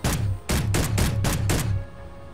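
Pistol fire in the Space Engineers survival game, an S10 sidearm with a 10-round magazine, loosing five sharp shots at a steady, roughly half-second rhythm, loud and close with short decaying tails and no talk.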